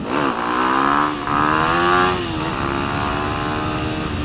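A Yamaha WR250X supermoto motorcycle revs hard into a wheelie, its engine note climbing and falling in a close, loud, sustained roar with no talking.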